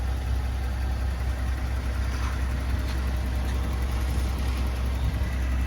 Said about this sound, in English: It runs really well, holds a nice idle, doesn't smoke